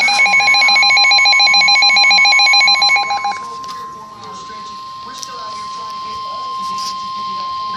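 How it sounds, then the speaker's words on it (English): A loud, repeating phone emergency alert tone for a severe thunderstorm warning sounds for about three seconds, then cuts off, leaving a steady tone, quieter rustling and faint background voices. "I just received a notification."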